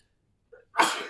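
A single sharp sneeze bursts out after a brief small sound, loud and close.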